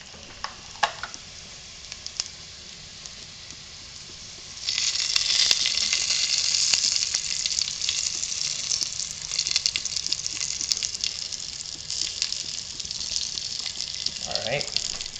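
Garlic fries in a pan, a soft background hiss that jumps to a loud, bright, steady sizzle about a third of the way in and stays strong, with occasional clatters of stirring.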